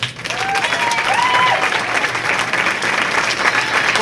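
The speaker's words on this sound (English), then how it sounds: "how about another round of applause for Amanda Green, your champion this year" Steady applause from a crowd fills the whole stretch, dense clapping at an even, fairly loud level with a few faint shouts.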